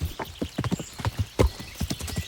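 Hooves of a horse clip-clop in the video game Kingdom Come: Deliverance, an irregular trotting rhythm of close, solid thuds and knocks, loud and clear without speech.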